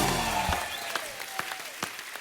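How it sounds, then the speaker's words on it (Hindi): Applause from a studio audience greeting the players on a comedy talk show, with scattered claps in a fairly soft, thin burst that tapers off over a couple of seconds. "जोरदार तालियां होनी चाहिए हमारे सभी प्लेयर्स के लिए"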